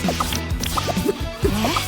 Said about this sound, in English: we gotta plug up that leak